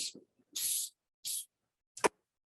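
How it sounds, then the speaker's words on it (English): Gold spray paint hisses from an aerosol can onto a cake decoration in three short bursts, followed by a brief sharp click, with silence between the close, crisp sprays. "a good spray with the gold as well"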